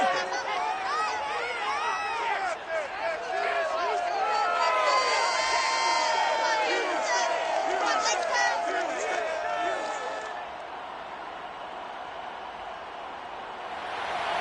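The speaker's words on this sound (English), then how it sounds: "this crowd enthusiastically cheering on their Texans as they emerge from the locker room" Stadium crowd in an EA Sports NFL football game roars and cheers for the Texans emerging from the locker room, dense whoops and shouting at full volume, easing slightly toward the end.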